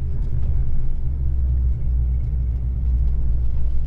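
Honda Civic Type R FD2 with a Spoon engine, driven on the road, producing a steady, loud, low engine and exhaust drone with road rumble and a fairly quiet exhaust tone.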